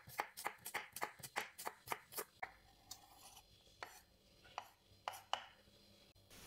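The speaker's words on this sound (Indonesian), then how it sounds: "Bawang putihnya diiris tipis." A knife slices garlic thinly on a board in quick, crisp, close strikes at first. The cuts then slow to sparser, softer taps.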